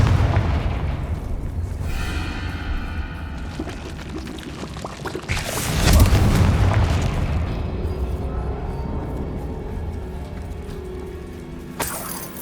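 Confringo spell in Hogwarts Legacy bursting into a fiery explosion, a rushing crackle building into a loud booming blast around the middle, then a lingering rumble and debris patter.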